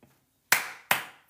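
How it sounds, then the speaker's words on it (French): Three sharp hand claps, spaced roughly evenly and loud against an otherwise quiet room. "Pardonnez-moi, j'ai applaudi."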